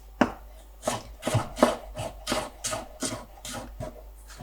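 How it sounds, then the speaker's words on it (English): Knife chopping carrot into thin julienne strips on a board, about ten crisp evenly spaced cuts, close and clear with no talking. "And by julienne style, I mean like these small, thin stripes of carrot."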